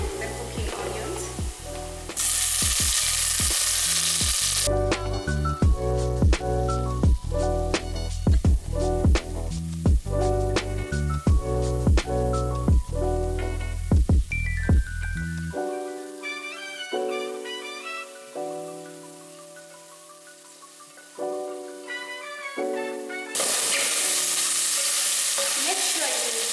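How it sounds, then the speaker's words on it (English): Mushrooms frying with cooked onions in a pan for mushroom soup. Loud bursts of sizzling come at the start and near the end, with background music playing through most of the stretch. "Let's add our mushrooms to the cooking onions."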